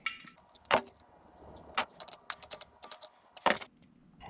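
Metal fittings and a hose clinking and rattling while being attached to an air compressor's drain fitting with a 90-degree elbow, a run of close, sharp, irregular metallic clicks and jangles.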